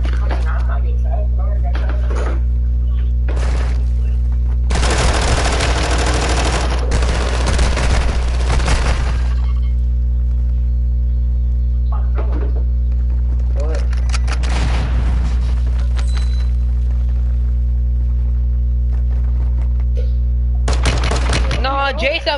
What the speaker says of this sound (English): Oh, I'm getting shot.